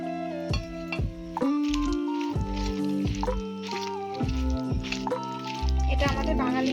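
Raw prawns being mixed by hand with a mustard and poppy seed paste, giving wet, sticky squishing and squelching in an uneven rhythm, close and fairly clear, with a voice talking over part of it.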